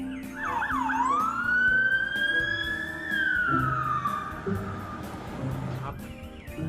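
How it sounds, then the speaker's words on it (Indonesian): A toy highway patrol police car sounds its electronic siren up close, one rising and falling wail that sweeps up, holds, then drops back down. "Wow, mobil polisi teman-teman,"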